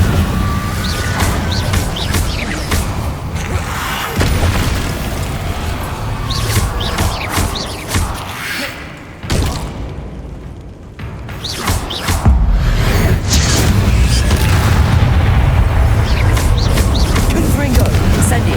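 Spell blasts burst and crash in Hogwarts Legacy combat, repeated loud booming impacts with whooshing magic over a continuous noisy game mix, with a voice calling out between them.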